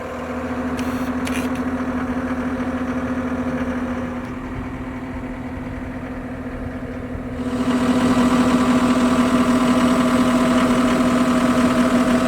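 A skid steer engine idles steadily at a job site where trees are being cleared and mulched, its low hum holding a strong, even tone that grows louder near the end.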